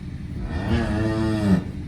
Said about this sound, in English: you know the cow is on the trailer